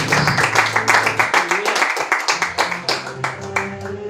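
A church congregation claps in praise during a worship service, a brisk run of rhythmic hand claps continuing throughout, with a voice speaking and a sustained tone beneath the clapping.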